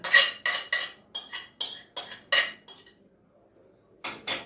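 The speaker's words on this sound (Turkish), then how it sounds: "Bunları kaynayana kadar karıştıracağım." A metal spoon or whisk stirs rice and mint soup in a pot, giving a run of close, bright scraping clinks in short bursts with a brief quiet gap before two final strokes.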